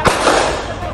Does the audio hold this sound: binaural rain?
no